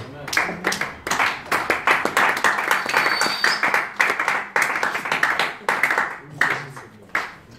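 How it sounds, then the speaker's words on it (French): A church congregation applauding at a retreat, steady rhythmic hand claps from many people close by, continuing evenly throughout with brief dips and a faint voice underneath. "Acclamons la parole de Dieu"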